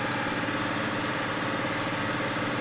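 An old 4960 tractor with about 200 horsepower, out plowing, runs its engine at idle in a steady, loud, even rumble close by with no voices.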